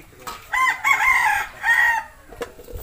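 A farmyard rooster belonging to a rural household in Bicol crows loudly and close by in a single drawn-out call, with other chickens faintly clucking in the background.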